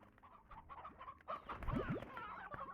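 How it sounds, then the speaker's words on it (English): Briar chicks from the video game Slime Rancher cluck in a brief flurry of chirpy, rising calls that peak near the middle of the stretch, set against a busy bed of game ambience and other farm-bird sounds. "That's a briar chick."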